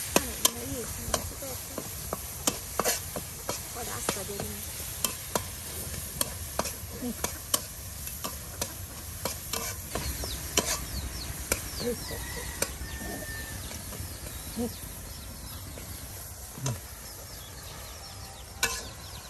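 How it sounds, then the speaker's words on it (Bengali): Chopped onion and green chillies fry in hot oil while being stirred, a steady sizzle with frequent scraping clicks of a utensil against the pan, close and fairly loud, no talking. "তেলের সাথে কিছু পরিমাণ পেঁয়াজ কুচি। হ্যাঁ, দেওয়া হচ্ছে আরো কাঁচামরিচ।"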